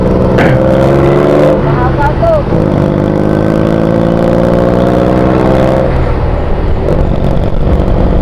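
Engines idle loudly and close by in a roadside traffic jam, a steady throbbing drone with a brief rev near the start and constant wind buffeting.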